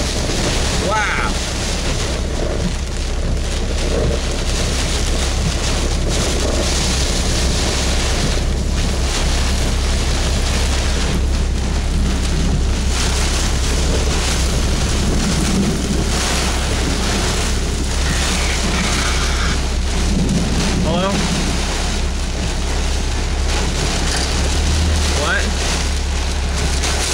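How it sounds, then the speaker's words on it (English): A severe storm during a storm chase, with strong wind roaring and buffeting the microphone and rain pouring steadily throughout, loud and close; no distinct thunder clap stands out. "we got a very, really bad storm right now"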